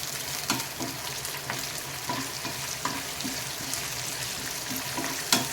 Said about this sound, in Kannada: ಈ ಥರ ಇದನ್ನು ಫ್ರೈ ಮಾಡ್ಕೋಬೇಕು